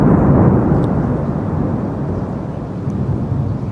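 Heavy thunder rolls through a thunderstorm, a loud, deep, sustained rumble that slowly fades over several seconds with no voices.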